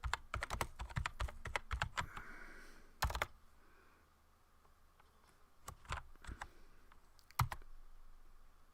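Typing commands into a text adventure game on a computer keyboard: bursts of quick, close keystrokes, a pause, then more scattered key clicks and taps in a quiet room.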